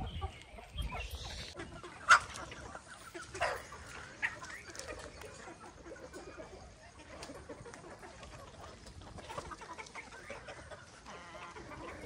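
Hens and chicks in a brooder warmed by bulbs on a free-range farm, giving faint scattered clucks and cheeps with a dog barking briefly in the background, quiet and somewhat distant.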